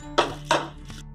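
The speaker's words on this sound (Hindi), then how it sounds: "अब हम लोग पोटैटो मैशर से अपनी सारी सब्जियों को अच्छे से" Cooked vegetables for pav bhaji get mashed with a potato masher, two firm thumping squelches followed by a softer third press in a pan.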